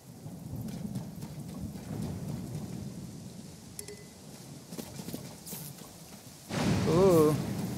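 Steady rain hisses throughout with low rumbling thunder in a Zelda video game, swelling louder near the end while a voice speaks briefly over it.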